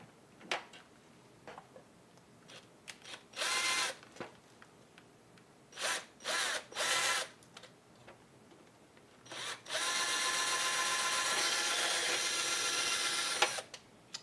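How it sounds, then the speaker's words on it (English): Bursts of a handheld power drill boring a hole during a home repair: several short whirring runs, then one long sustained run of several seconds, fairly close with quiet pauses between. "Drill a hole here."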